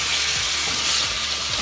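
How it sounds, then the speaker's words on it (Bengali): Water added to a pan of spiced potato and eggplant curry sets off a loud, continuous hissing sizzle from start to finish, with no voices. "এবার আমরা এর মধ্যে অল্প করে জল দিয়ে দেবো যাতে বেগুন আর আলুটা ভালো করে একটু সেদ্ধ হয়"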